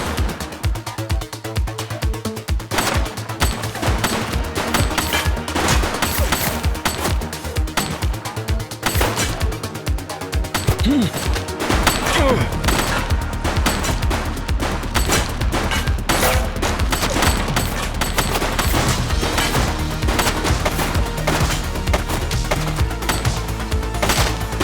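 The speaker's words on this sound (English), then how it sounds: "He's shooting!" Sustained heavy gunfire in the police game The Precinct, rapid loud bursts of shots over a driving music track, continuing almost without pause throughout.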